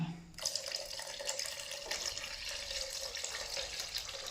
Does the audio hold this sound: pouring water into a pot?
yes